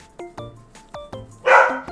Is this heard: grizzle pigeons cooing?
no